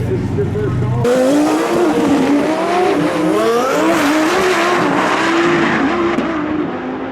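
Twin-turbo drag race cars launch down a quarter-mile strip at a TX2K event, their engines screaming loudly and continuously with rising revs and tire noise for several seconds, close and dominating the scene.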